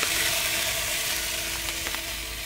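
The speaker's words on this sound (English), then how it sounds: "I'm going to add the brandy and ignite that with the fire from the oven" Brandy poured into a steak peppercorn sauce in a pan inside a wood-fired oven, giving a loud, steady hissing sizzle with a couple of brief crackles, close up and uninterrupted.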